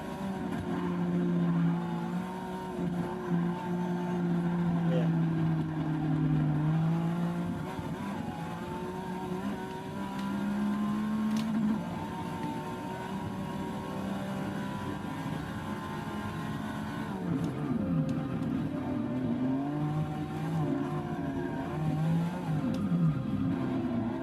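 A Porsche race car in Forza 6 drones steadily at high revs, its engine note rising and falling through gear shifts and corners across a long continuous stretch, loud and close with no talking.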